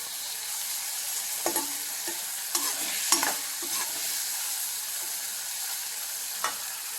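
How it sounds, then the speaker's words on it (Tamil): Dried anchovies (nethili karuvadu) stir-fry and roast in a pan, a steady soft sizzle broken by several distinct scraping stirs of a spatula, close and alone. "சூப்பராக நெத்திலி கருவாடு சூப்பராக ரோஸ்ட் ஆகிடுச்சு பாருங்கள்"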